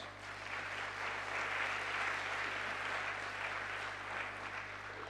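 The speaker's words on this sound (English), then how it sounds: "Let's give them all a round of applause." Audience applause at a peace convention's closing plenary, a steady wash of clapping from a large crowd in a hall, heard from some distance at a low, even level with a faint electrical hum beneath.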